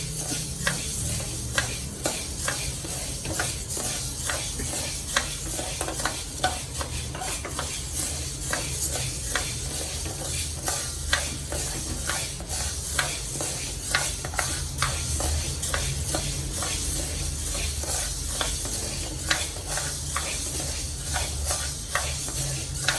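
Peanuts roast in a dry pan while being stirred, a continuous soft rattle and scrape with rapid rhythmic clicks of nuts and spatula against the metal, steady and close, without speech.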